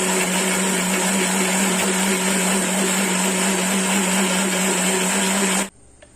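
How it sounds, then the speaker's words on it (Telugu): A kitchen mixer grinder blends a banana and dry fruit milkshake with milk and ice cubes, giving a loud, steady, high-pitched whir that cuts off sharply near the end. "ఒకసారి మిక్సీ పట్టుకుందామండి."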